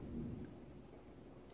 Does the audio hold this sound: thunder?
yes